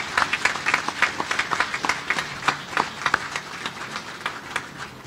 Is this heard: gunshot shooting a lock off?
no